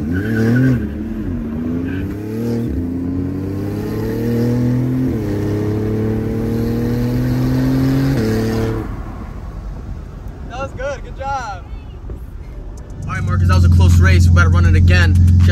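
Cars drag racing side by side, among them a Porsche GT2 RS, engines revving up through rising gear pulls for several seconds, then dropping away before a loud close rumble returns; talk is heard alongside.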